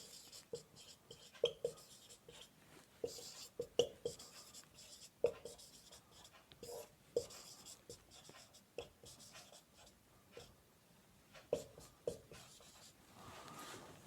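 Pen or marker strokes scratch out equations during a physics lecture on thermometry, a steady run of short rubs and taps with faint room noise and no clear speech.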